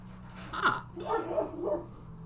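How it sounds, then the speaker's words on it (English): A dog barks a few times in quick yips and woofs, moderately near, over a faint low background hum. "My dog's having a moment."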